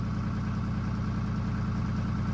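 A tractor engine idles steadily in the woods during logging work, a low continuous rumble at moderate distance with no voices.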